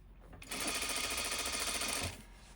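Sewing machine running steadily while stitching a single roll-up hem on fabric, a continuous close whirring burst of about one and a half seconds, starting and stopping abruptly over a quiet room.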